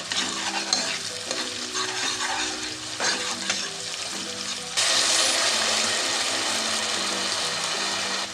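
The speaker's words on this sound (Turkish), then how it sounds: "içerisine bir buçuk yemek kaşığı domates salçası ilave ediyorum. Salçayı iyice kavuralım." Onion and tomato paste frying in a pan, stirred with a utensil, giving steady sizzling with repeated scraping strokes that turns into a louder, brighter sizzle partway through; no talking.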